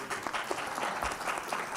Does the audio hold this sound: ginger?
no